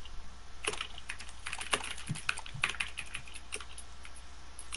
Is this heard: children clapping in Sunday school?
no